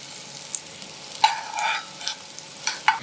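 Paneer thecha cutlets coated in rice flour shallow-fry in a pan, giving a quiet, close sizzle broken by a few light clinks and scrapes as they are turned, with no talking.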